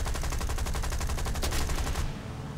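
Rapid machine-gun fire from a heavy fighter plane in War Thunder, a fast evenly spaced string of shots lasting about two seconds before cutting off abruptly.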